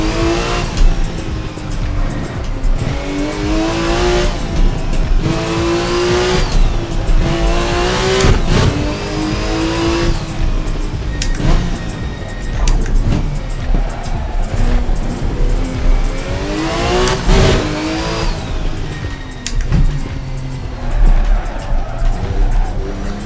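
A classic sports car on a Napoli street track scrubbing its tyres, a loud, close engine droning and rising in repeated revs with gear changes and faint tyre squeal throughout, under light commentary.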